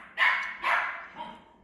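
A Bernedoodle puppy barks nearby in a litter setting: two sharp, high yips in quick succession followed by a softer third bark.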